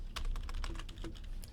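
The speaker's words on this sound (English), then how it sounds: "And watch as I tab and start typing" Typing on a computer keyboard while entering Excel column headings, a quick irregular run of crisp key clicks, close and fairly quiet, with no talking.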